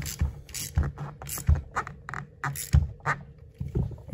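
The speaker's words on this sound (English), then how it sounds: "I use a ratcheting wrench" A ratcheting wrench tightens bolts on a lift kit for a Ford Bronco Sport, giving close, crisp clicking strokes in an irregular, repeated rhythm with short pauses between them.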